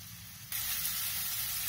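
Garlic and ginger paste hits a pan of frying onions, a quiet background suddenly jumping into a steady, close sizzle that holds without letting up.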